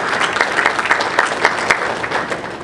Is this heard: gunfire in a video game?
no